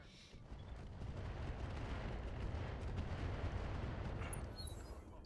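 Heavy weapons fire from a mech in the BattleTech mod RogueTech, a sustained low, rumbling barrage of booming shots that swells and holds for several seconds before easing off, with no talk over it.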